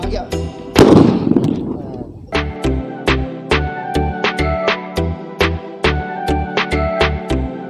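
Sutli firecracker bombs set off in an underground pit packed with gulal, giving one big muffled blast followed by a rapid string of sharp, loud cracks at close range, with no talking.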